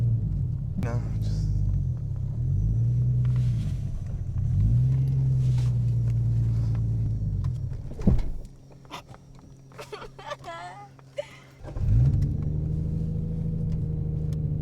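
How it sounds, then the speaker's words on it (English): A Nissan GT-R being driven, its engine a deep droning rumble that swells and shifts through gear changes, drops away for a few seconds of quieter cabin sound, then surges back, with people talking inside the car throughout. "So actually driving the GTR this time."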